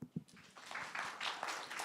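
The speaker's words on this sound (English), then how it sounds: "Applause to you." A small group applauds after a live product demo, a faint, scattered patter of hands that rises after a couple of isolated claps and keeps going softly to the end.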